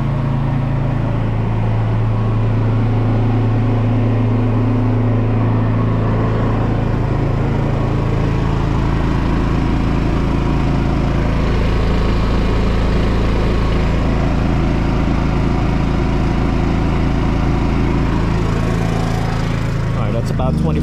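A Champion 201407 whole-home inverter generator runs with a steady, loud low hum and engine drone that continues unbroken from start to finish, with a faint sound of handling near the end.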